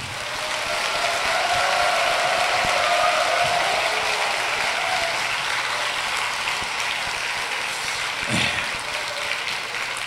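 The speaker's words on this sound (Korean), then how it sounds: "우리 큰 박수로 환영의 박수 해주시기 바랍니다" Sustained applause from a church congregation fills the space, a dense, even patter of clapping that continues steadily without letting up.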